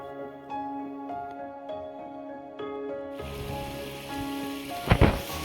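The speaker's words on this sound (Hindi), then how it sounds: "मस्ती में अटखेलियां करता झरना" A playful mountain waterfall near Jhalta village in the hills of Himachal spills and splashes as a steady broadband rush, with a louder close burst of water noise near the end.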